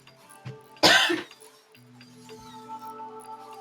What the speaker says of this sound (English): I feel like I needed a proper cough.